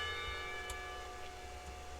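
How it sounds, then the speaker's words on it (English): Clock tower bells ring in a school setting in the visual novel Katawa Shoujo, a sustained resonant chime hanging evenly at moderate loudness with no voices. "The clock tower bells ring, signaling the end of the period"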